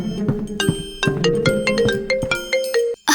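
A mobile phone rings with a repeated electronic melodic ringtone, steady tonal pulses with harmonics, loud and close for about three seconds in a classroom, cut off abruptly near the end.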